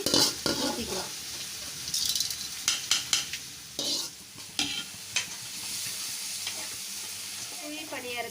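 Batter hits a hot kuzhi paniyaram pan and sizzles steadily, with scattered metallic clinks and scraping of utensils against the pan throughout.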